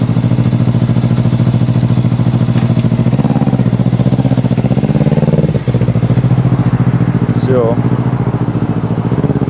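A motorcycle ridden by a woman pulls away on a city street in Voronezh, its mid-pitched engine droning loudly and steadily, shifting in tone as it departs, while someone speaks briefly.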